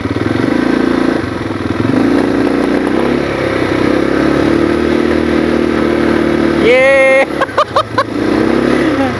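A quad bike engine runs steadily on an outdoor resort track, a loud continuous drone that rises with a few revs and shifts in pitch, with brief voices near the end.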